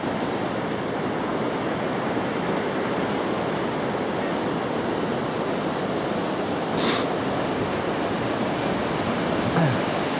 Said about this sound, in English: Pretty good waves today too.